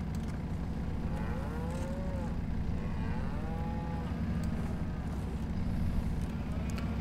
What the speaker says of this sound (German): Die blöken da unten rum, als hätten sie kein Futter.